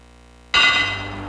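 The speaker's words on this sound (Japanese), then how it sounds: "沈黙の中にハイトーンの鐘の音が響き渡ってまいりました" A bright, high-pitched bell is struck once at a professional wrestling show and rings on with a sustained metallic shimmer, loud and close against a quiet background.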